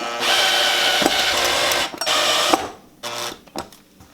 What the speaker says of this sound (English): Now it's just a matter of screwing them in now.